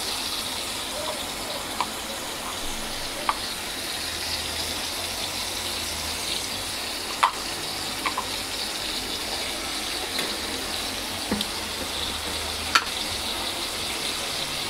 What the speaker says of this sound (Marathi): फ्राय होतोय